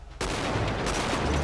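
Sniper rifle fire in GTA 5 roleplay bursts in abruptly after a brief quiet lead-in, then a sustained, dense crackle of shots carries on loudly with no voices.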